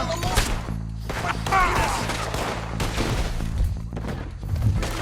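Gunfire in the video game Red Dead Redemption 2: a flurry of sharp shots and impacts in a firefight, with a loud burst near the start, under and between shouted game dialogue.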